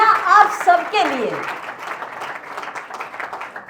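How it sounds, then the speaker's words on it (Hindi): An audience in a hall of the Maheshwari community applauds. The clapping starts as a burst over a voice, then settles into steady, moderately loud applause. "तो एक बार जोरदार तालियां आप सबके लिए।"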